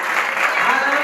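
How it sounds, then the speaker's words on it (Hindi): An audience at a Hindi-language church service claps loudly, a dense, continuous burst of applause with a voice calling out over it. "जोरदार ताली बजाकर बोलिए"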